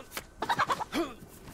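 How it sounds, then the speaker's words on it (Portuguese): Chicken clucking in the survival video game DayZ, a short burst of several close clucks with a rising squawk, loud and alone with no talk. "Tem uma galinha aqui, ó."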